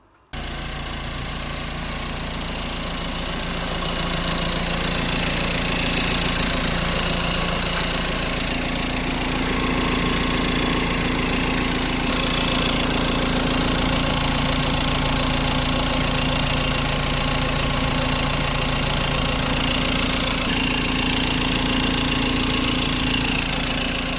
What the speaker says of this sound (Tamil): இன்ஜினோட நாய்ஸை அப்படியே லைவாக கேட்டுருங்க